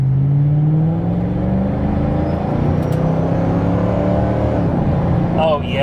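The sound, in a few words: Ford Mustang GT driving around a corner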